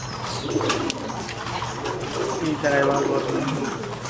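Pigeons coo in a park at a picnic resort in Bagerhat, a steady low murmur of several birds close by, with people talking over and around the cooing throughout.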